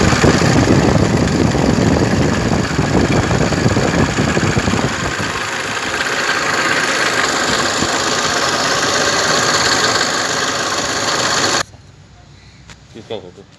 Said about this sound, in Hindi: गाइस एसी ऑन करेगा तो आवाज़ इसका नॉइज बढ़ रहा है